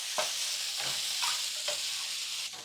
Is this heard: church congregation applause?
no